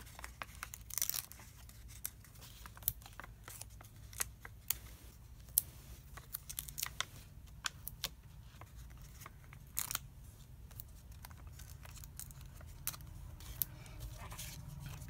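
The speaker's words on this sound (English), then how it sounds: "Peeling off the backs." Adhesive dimensionals have their backing peeled off in a run of faint, close, crisp ticks and small tearing crackles, scattered irregularly against a quiet background.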